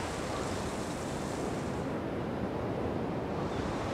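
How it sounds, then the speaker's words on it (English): Heavy ocean surf breaking at the Banzai Pipeline, a shallow reef break, heard as a dense, continuous roar of crashing whitewater at steady loudness with wind noise mixed in. "the surf break Banzai pipeline, which is a very dangerous wave that breaks in very shallow water"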